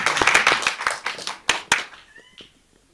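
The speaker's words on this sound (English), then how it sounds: "A round of applause for Mairead as well, who's not here." A small audience at a theatre talkback claps in a brief round of applause: scattered, close hand claps that thin out and fade to silence within a few seconds.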